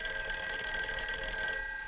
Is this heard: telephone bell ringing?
yes